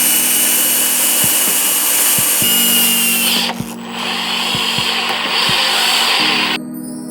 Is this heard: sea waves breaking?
no